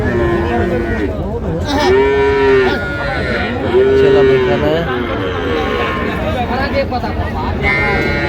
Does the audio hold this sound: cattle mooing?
yes